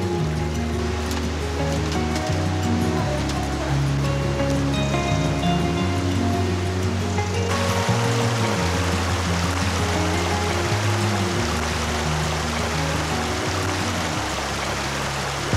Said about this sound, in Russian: Водопад представляет из себя водный поток, который с большой силой вырывается из-под огромного камня